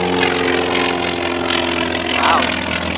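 A propeller biplane giving rides at a Mustang air show at an airport, its steady droning engine and prop hum loud and continuous, with people talking nearby over it.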